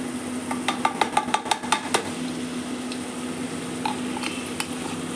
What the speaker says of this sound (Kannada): ಇದು ಹಸಿ ಸ್ಮೆಲ್ ಹೋಗೋವರೆಗೂ ಎಣ್ಣೆಲೇನೆ ಫ್ರೈ ಮಾಡ್ಕೋಬೇಕು